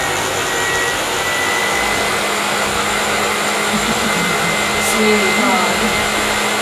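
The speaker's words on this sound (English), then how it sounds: "And then we just blend it till it's completely blended." A blender whirs steadily and loudly throughout, blending ingredients for an asparagus-and-arugula dish in a cooking-show kitchen, with a brief word spoken over the motor.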